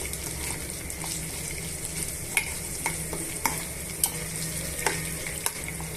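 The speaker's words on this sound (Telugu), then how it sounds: "ఇప్పుడు పోపు గింజలు బాగా వేగిపోయాయండి" Tempering seeds sizzle steadily in hot oil while a spatula scrapes and taps the pan in sharp strokes about every half second to second, with no voices.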